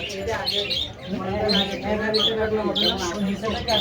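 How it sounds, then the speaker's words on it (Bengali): Pigeons coo and small birds chirp and squawk repeatedly in a busy chorus inside a bird shop, with people talking underneath. "পাখির কবুতরের কিচিরমিচির শব্দ ভালোই লাগতেছে"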